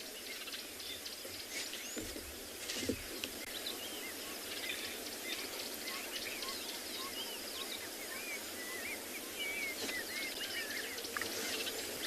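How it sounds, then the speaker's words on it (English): A female sunbird chirps in a tree at sunrise on a safari reserve, with short, faint, high calls scattered over a steady hiss of outdoor ambience and a brief thump partway through. "the chirping sounds of this sunbird"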